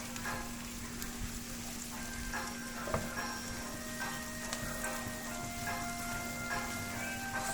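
Egg and sausage mixture frying gently in a pan over low heat, a steady soft sizzle with faint crackles and a few light ticks running throughout, no voices.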